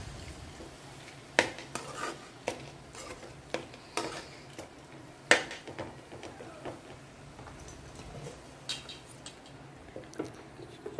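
Banana flower curry with soaked moong dal stirred in a pot, a spoon knocking and scraping irregularly against the metal with sharp close taps over a faint background.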